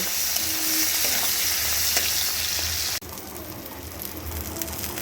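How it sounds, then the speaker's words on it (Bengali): Prawns fry in oil seasoned with turmeric and salt, giving a steady, loud sizzle that runs through the whole stretch, with a brief break near the middle and a few light stirring clicks. "দিয়ে একটুখানি ভেজে চিংড়ি মাছগুলোকে তুলে নেব"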